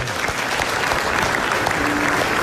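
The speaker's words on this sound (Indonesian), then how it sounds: "Iya, tepuk tangan dulu dong." A studio audience at an Indonesian comedy talk show bursts into loud, dense applause that holds steady from start to finish.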